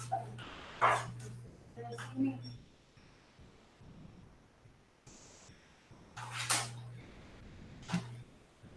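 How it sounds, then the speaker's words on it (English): A dog barks indoors in the background during a Hurricane Florence update, giving several sharp barks in two clusters at moderate volume, with a steady low hum and faint room noise between them. "Yeah, that's my dog in the background there."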